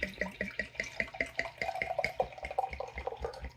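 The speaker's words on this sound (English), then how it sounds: "So let's just pour it into the glass." Chimay Grande Reserve barrel-fermented ale poured from a dark bottle into a glass, a steady run of close, rhythmic glugging splashes lasting several seconds with no talk.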